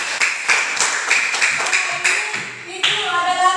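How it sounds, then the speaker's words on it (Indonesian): Classroom applause for a student, a lively burst of many hands clapping up close, with some voices mixed in toward the end. "tepuk tangan buat Ani"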